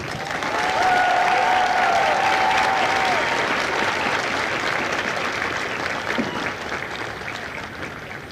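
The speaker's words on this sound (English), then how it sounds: "please join me in a round of applause" Sustained applause from a large audience at a Marine Corps recruit graduation ceremony in San Diego, steady and loud throughout, gradually tapering slightly toward the end.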